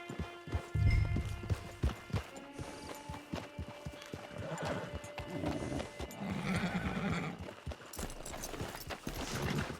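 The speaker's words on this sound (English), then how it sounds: "Get your horse." Horse hooves clip-clop steadily at close range in the Red Dead Online video game, with a whinny and some snorting, over a soft outdoor ambience.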